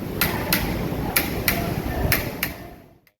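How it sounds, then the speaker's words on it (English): Hand hammering on the outside of a pewter mug at a pewter factory: six sharp metallic taps in an uneven rhythm over steady workshop hum, close and clear, then fading to quiet. "Hand hammering the outside of the pewter mug."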